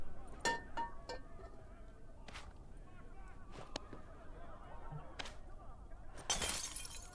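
Objects smashing and shattering in the Medal of Honor: Above and Beyond VR game, a string of sharp cracks and breaks spread across the clip, ending in a louder crash, with faint low talk beneath.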